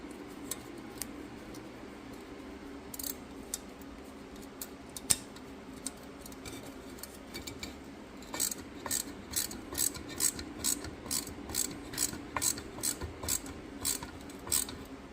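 The chain brake on a Frontier FB35 chainsaw is tightened in, starting with scattered metallic clicks and scrapes and settling into a steady run of rhythmic ratcheting ticks, close and fairly loud.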